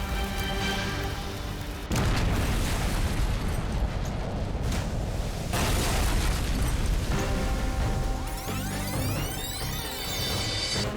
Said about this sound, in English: The blast from the ignited fuel sends a 20-ton steel hatch cover hurling across the bay